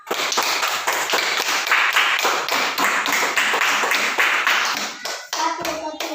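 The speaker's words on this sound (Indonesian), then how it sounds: "Silakan berikan tepuk tangan untuk kelompok A." Applause from a classroom of students for group A, a dense burst of many hands clapping fast and evenly at close range, dying away near the end.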